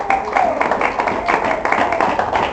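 A church congregation claps together in a loud, steady burst close by, while a voice keeps talking over the applause.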